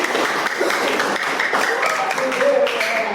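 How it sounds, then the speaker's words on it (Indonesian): A classroom crowd claps for a children's dance group during a Sundanese culture lesson, a dense, steady patter of hands close by, with voices mixed in. "Yuk, tepuk tangan untuk kelompok tari."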